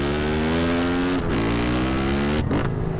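A motorcycle engine in GTA San Andreas revs loud and close, pitch climbing in two sustained pulls with a brief drop at each gear shift, alone and continuous.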